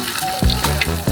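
Egg mixture for telur gulung frying in hot oil, a steady close sizzle with bursts as batter hits the pan, no talking.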